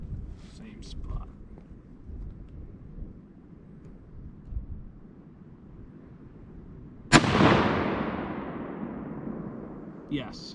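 A single sharp, loud shot from a Ruger 77 Ranger rifle at a shooting range, followed by a long decaying echo, with someone speaking quietly before and after.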